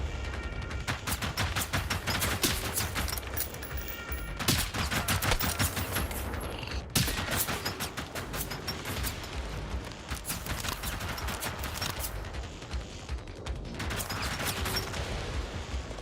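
Dense, continuous automatic gunfire in the video game Generation Zero, loud rapid bursts that run almost without pause, with a few brief gaps and clicking mechanisms between volleys.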